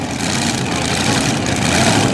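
Turbocharged 10,000-pound pro stock pulling truck at a truck and tractor pull, a loud, heavy engine droning steadily with low rumble and turbo whine, close and unbroken for the whole stretch.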